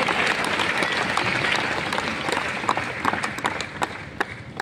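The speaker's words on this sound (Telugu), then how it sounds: "చప్పట్లు కొట్టే యేసయ్యకు స్తోత్రాలు చెప్తాం" A church congregation at a fasting prayer meeting of Immanuel Ministries in Hyderabad claps in praise of Jesus. Dense, continuous applause fills the room and tapers slightly toward the end.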